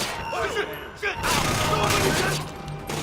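Gunfire in the Splinter Cell: Conviction video game, a dense burst of loud shots and impacts through most of the short span, with someone shouting over it.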